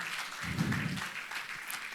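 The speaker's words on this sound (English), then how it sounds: "A round of applause for our speaker one more time." Applause for a speaker at a class of 2025 graduation ceremony: a soft, moderately distant patter of many hands clapping, continuous and fairly even for about two seconds with a low rumble of room noise beneath.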